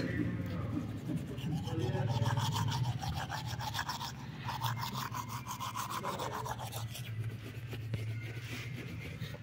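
A toothbrush scrubs teeth in quick, rhythmic rasping strokes close to the microphone, with a voice talking in between.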